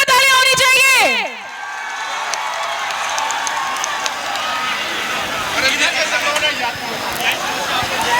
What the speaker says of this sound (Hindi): आपके शहर में खेसारी लाल जी, एक बार जोरदार तालियां होनी चाहिए